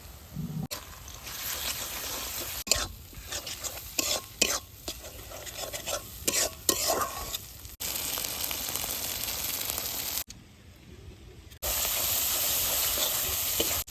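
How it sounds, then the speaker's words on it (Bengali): Spice paste of ginger-garlic, cumin, green and dried chilli paste, salt, turmeric and chicken masala sautéing in a pan for a chicken and cauliflower curry, heard as repeated scraping stirs over a continuous sizzle, with a few abrupt cuts and a brief lull. "মশলা ভালো করে কষিয়ে নিয়েছি"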